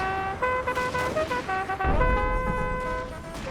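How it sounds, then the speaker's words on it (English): Bugle call sounds during a chaotic American Civil War battle in the Total War strategy game, a series of loud brassy sustained notes stepping between pitches over a rumbling backdrop of battlefield noise. "A bugle sounding, trying to rally the men and also communicate, I guess, with units."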